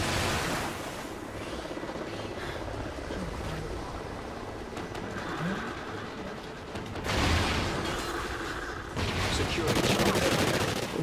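Dense, continuous gunfire from a heavily recoiling gun in the video game Call of Duty: Ghosts, a sustained roar of shots and game noise that swells louder in the last few seconds, close and loud.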